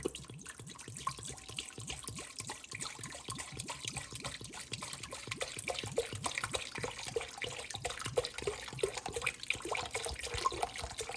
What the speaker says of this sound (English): And now I'm going to add in the wine.